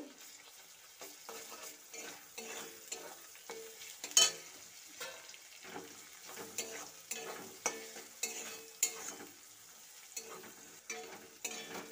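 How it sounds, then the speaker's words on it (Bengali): Onion with grated garlic and ginger stir-fried in a pan for Bengali aloor dom, with a soft sizzle and a repeated rhythm of spatula scrapes and clinks close by, without speech. "1 চামচ গ্রেট করা রসুন, 1/2 চামচ গ্রেট করা আদা দিয়ে আবারও একটু কষিয়ে নেব"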